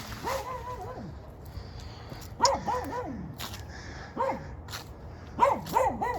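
A small yappy dog barks in sharp, high-pitched bursts, several quick yips clustered in a few groups with short pauses between, fairly close in a quiet room.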